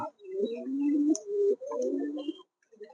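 Mukkhi pigeons at a farm give two drawn-out, throaty coos close by, with faint chirps and small noises in the quiet background.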